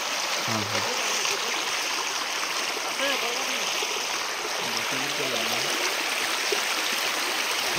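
A small stream flows steadily outdoors, a continuous broadband rush of water that stays level throughout, with people talking over it in short bursts.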